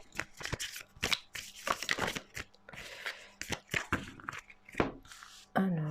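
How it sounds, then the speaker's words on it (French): Oracle cards are shuffled by hand at close range, a run of quick papery riffles and slides that come in uneven bursts with brief pauses between them. "Pourriez-vous faire sauter les cartes, s'il vous plaît?"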